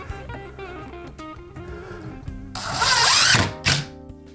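Power drill driving short screws to mount a shower valve fixture to a 2x4, one sustained whirring burst of about a second followed by a short final blip, close and loud after quieter background sound.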